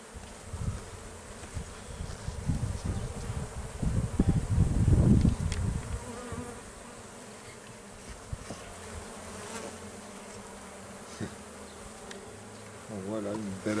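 Honeybees buzz steadily around an open hive during a full inspection in bright sunshine, a dense close-up drone that swells louder near the middle and then settles back to a constant hum.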